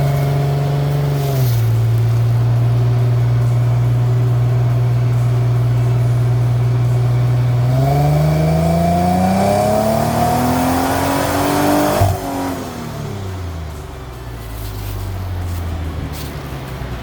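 A stock 2010 Ford Mustang with the 4.0L V6 revs hard in third gear, one long continuous pull climbing steadily in pitch, then the throttle lifts and the engine winds down, loud and close with no talking.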